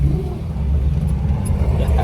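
A 1979 AMC Spirit AMX, a 61,000-mile survivor car, revving with a low, rumbling engine drone that holds steady at close range for two seconds.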